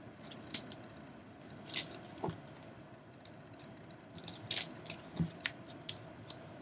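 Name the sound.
tarot cards being shuffled and cut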